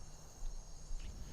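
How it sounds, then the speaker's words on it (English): Crickets chirp in a Skyrim game setting, a steady high insect trill under low background noise, with two slightly louder swells in this short stretch. "What is that chirping? Oh, it's the crickets, of course."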